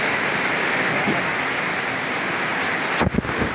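Heavy rain pours down at night in a steady, loud, dense hiss, with a short sharp disturbance near the end over the constant downpour.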